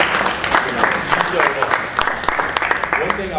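Round of applause at a candidates night in Warren, Michigan, honoring the chair; steady clapping from a room of people fills the short stretch, with voices murmuring underneath.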